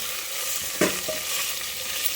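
Carrots and beans fry in a pan, a soft steady hiss under one short clatter of a utensil against the metal, with no voices present.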